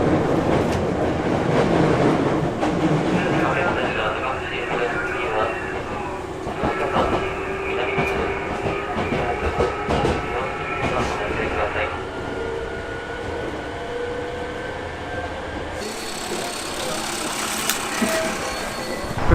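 A train in Japan, arriving in Kyoto, rumbles steadily along the rails with rhythmic clatter and a rising mechanical whine, heard from inside the carriage.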